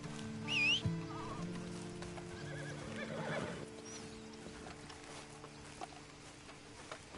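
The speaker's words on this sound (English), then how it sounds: "And you better get on this horse." A horse in Red Dead Redemption 2 lets out a clear whinny at the start, followed by softer snorts and a few faint hoof clops, fairly close and without talk.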